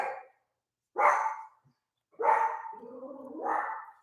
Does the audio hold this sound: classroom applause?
no